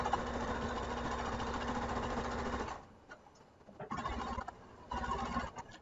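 Domestic sewing machine stitching the hem of a washable handkerchief, a close, steady mechanical whirr that runs continuously, then stops and restarts in short stuttering bursts.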